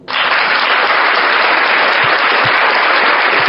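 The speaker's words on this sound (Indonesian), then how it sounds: "Tepuk tangan untuk Tuhan." A church congregation applauds in a dense, loud, sustained burst of clapping that starts abruptly and holds steady, with a few low thumps underneath.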